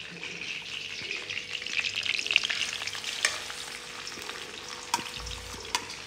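Tadka tempering sizzling in a pan before Maggi noodles go in, with a steady close crackle and occasional sharp clicks of a stirring utensil, no talking.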